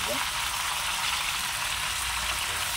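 Pickle ingredients for a jaggery pickle fry in a pan until reddened, giving a steady, close sizzling hiss that runs unbroken throughout.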